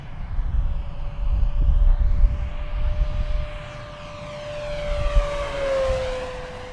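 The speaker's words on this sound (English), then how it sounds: "I'm gonna go back to the other end, Steve, give you another inverted pass again." An FMS P-47 Razorback 1500mm RC model warplane makes an inverted pass over a runway, its propeller engine droning steadily and swelling, then dropping in pitch as it flies past and away, with no talk.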